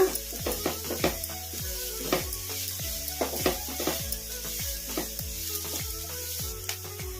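Finely chopped capsicum for a spicy masala bread toast sizzles steadily in a pan, with rhythmic scraping strokes as it is stirred, close and fairly quiet.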